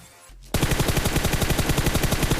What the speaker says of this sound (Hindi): एक बंदा यार हल्की सी फायरिंग करता है सी बिल्डिंग के पास से